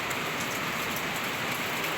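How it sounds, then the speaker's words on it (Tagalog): Heavy rain pours down on a farm in the Philippines during a low-pressure storm, a dense, loud, unbroken hiss of drops hitting surfaces close by, with no voices. "ang lakas po ng ulan dito sa aming bukid guys"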